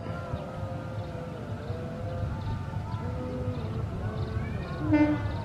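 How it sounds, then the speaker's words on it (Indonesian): Serayu morning train pulling into track 2 at an Indonesian railway station, with a steady rumbling approach, tonal horn and station chime lines, and a brief louder blast near the end. "Persiapan merapat dan masuk di jalur 2 stasiun Cipendei"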